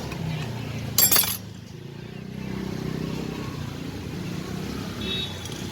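Cold glass soda bottles at a roadside soda truck give one sharp, bright clink near the start, then a low traffic hum carries on quietly.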